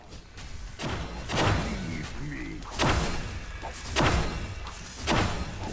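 Vulcan's turret firing in the game Smite: loud, heavy booming shots repeat roughly every second and a half, with whooshing in between and a voice talking over them.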